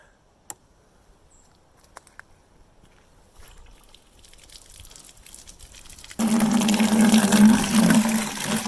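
A 12 volt DC well pump starts on an off-grid well and water begins gushing out of the pipe; faint clicks and quiet rising flow give way to a loud, steady rush of pouring water.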